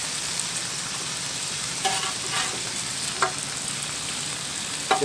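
Onions sizzling on a griddle in butter and oil left over from smashburgers, a steady close hiss throughout with a few faint scrapes and stirs.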